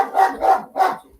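A dog barks three times in quick succession, loud and close, each bark sharp and clear against otherwise quiet surroundings.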